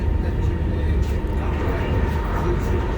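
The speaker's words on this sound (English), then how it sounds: "This is not a non-stop train, this one though." Steady low rumble and hum inside a passenger train between Runcorn and Liverpool Lime Street, continuous and fairly loud, with a voice talking over it.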